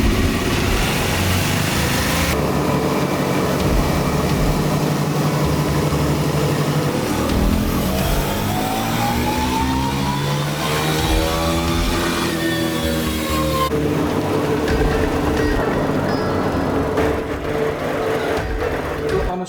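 A stock 2024 KTM 390 Duke single-cylinder motorcycle runs hard on a dyno, its loud, steady engine drone rising and falling in pitch through a sweeping rev run, close up, with no talk.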